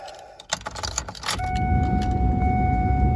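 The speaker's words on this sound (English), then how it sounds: "All right, so I'm gonna turn the key on." Keys jangle and click as the ignition is turned on a Ford F-350 truck, followed by a steady electrical hum and a high chime tone as the dash powers up, close and clear with no talking.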